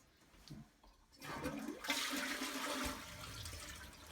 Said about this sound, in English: we'll let it fill up and we'll flush it